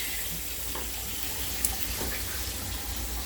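Oil dripping and trickling off freshly fried country fried steak as it drains, heard as a steady close wet patter with a few louder drips.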